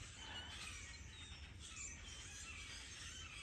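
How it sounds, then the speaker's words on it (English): Birds calling from trees ahead along a hiking trail, faint scattered chirps and squawks over a constant hiss of insects and ambient noise, with no voices. "All kinds of squawking going on."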